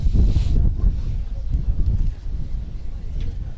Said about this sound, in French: Ah, Sophie, je crois que le vent se lève. C'est pas je crois, on l'entend dans les micros.